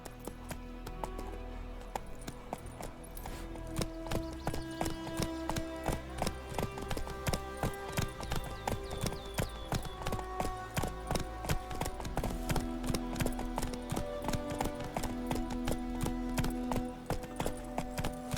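A horse's hooves clip-clop in a steady, even trot in The Witcher 3: Wild Hunt, close and regular under a continuous musical score.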